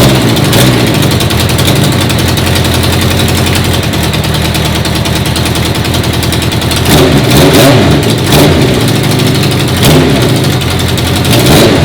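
An old school bobber motorcycle engine runs loud and close, idling roughly with a steady throb, then revs up in several sharp bursts, with no voices.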